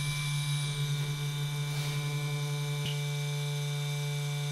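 A tattoo pen machine running at 10 volts gives a steady, close electric hum with a constant buzzing tone and faint higher whine, holding unchanged throughout.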